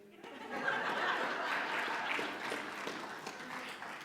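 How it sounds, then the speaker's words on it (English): An audience claps and chuckles, a soft, fairly distant wash of applause that swells quickly and then slowly fades over a few seconds. "We didn't get nearly as much applause the second time, Pooh."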